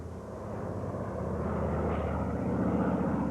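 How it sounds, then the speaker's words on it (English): Berlin Airlift propeller airplanes give a steady, loud droning roar that swells slightly as it goes, heard alone without voices. "the roar of the planes was music from heaven"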